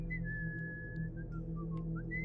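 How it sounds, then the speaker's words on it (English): A man whistles a cheerful, wandering tune indoors. The melody is steady and clear over a low background hum, with no speech. "he whistled a happy tune to calm his nerves"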